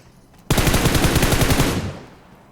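Sustained automatic gunfire bursts out loud in a video game, a rapid run of shots lasting about a second and a half before tailing off, with no talk over it.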